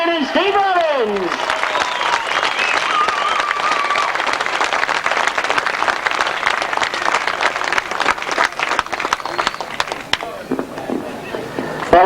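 Crowd applause at a 1992 British Masters grasstrack racing qualifier meeting, a broad, sustained wash of clapping and cheering that runs loud and steady throughout, with a speaking voice over it at the start.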